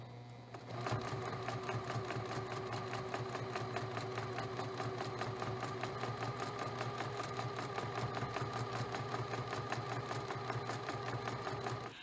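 A sewing machine stitches a quilt-as-you-go bubble quilt in a fast, even mechanical chatter with a steady hum underneath. It starts after a short pause and runs continuously and close, with no talking.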